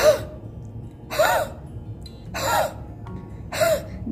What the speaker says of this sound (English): huffing.